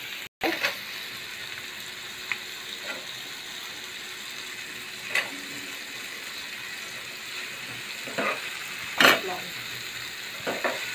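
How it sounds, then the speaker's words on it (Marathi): Vegetables stir-fried in a pan for street-style veg fried rice give a steady, fairly loud sizzle throughout, with occasional scrapes and stirring clatter rising above it. No one talks. "आता प्रत्येक भाजी टाकल्यावर थोडं थोडं परतून घेणार आहोत आपण"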